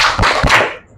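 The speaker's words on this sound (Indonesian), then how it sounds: "Untuk kelompok Rafflesia kita berikan tepuk hebat." Audience in a classroom coaching session gives a quick group clap, a few sharp, loud claps bunched in the first half, then fading.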